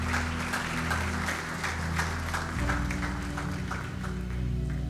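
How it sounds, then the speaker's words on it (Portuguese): A church congregation claps together, steady dense applause filling the room throughout, with a low hum of music underneath. "Aplauda o Senhor se você pegou algo nessa manhã."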